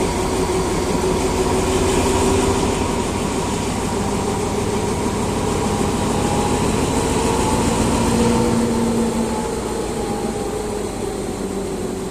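A heavy locomotive engine on a railway rescue vehicle drones steadily, loud and close, with a constant mechanical rumble and a faint shifting hum.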